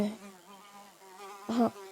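A housefly buzzes steadily for about two seconds, one of a swarm settling on leftover dog food, with a louder, closer swell of buzzing near the end and no talk.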